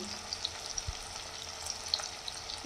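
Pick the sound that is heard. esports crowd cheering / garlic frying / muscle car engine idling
garlic frying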